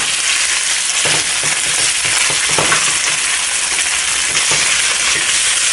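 Pork for Thai fried rice frying over medium heat, a loud continuous sizzle with repeated scraping stirs of a spatula in the pan, no voices.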